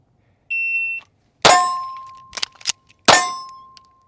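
Metallic clangs and sharp shot-timer tones during a reload drill with a MAC9 DS Comp pistol: a steady electronic beep, then two loud ringing clangs separated by a few quick clicks, close and with no talking.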